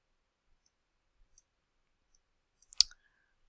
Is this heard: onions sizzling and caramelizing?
no